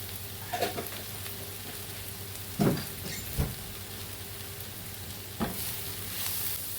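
Spices and salt sizzle in a frying pan while being stirred, a steady hiss with a few sharp scrapes and knocks from the utensil.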